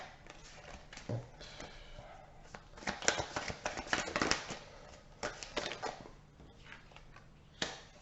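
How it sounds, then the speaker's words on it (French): Tarot cards being shuffled and drawn by hand, a series of soft close riffling and flicking sounds with a few sharper snaps, quiet with no speech. "je vais tirer quand même une dernière carte"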